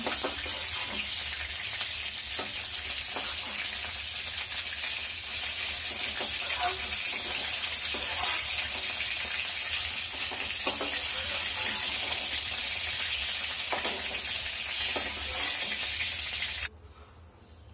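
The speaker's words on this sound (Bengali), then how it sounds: "মাছটা ভাজা হয়ে গেছে, এবার নামিয়ে নেব।" Hilsa fish pieces fry in hot oil in a pan, producing a dense, steady hiss with scattered crackles that runs at an even level before cutting off abruptly near the end, with no talk heard.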